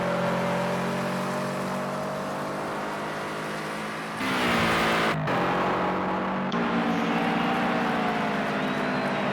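A Toyota GT 86 lapping the Watkins Glen International GP circuit in the racing game Project Cars 2 gives a steady engine drone with shifting pitch, changing abruptly partway through as the view or gear changes, continuous and moderately loud.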